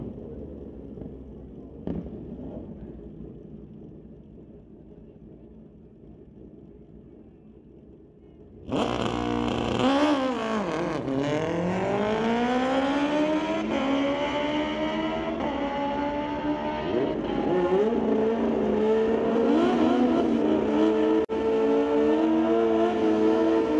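A 2005 Suzuki GSX-R and a 2012 Kawasaki launch together at a street-legal drag strip. Both engines howl loudly and climb through the gears with rising, overlapping whines, while a quieter idle rumble comes before the sudden launch.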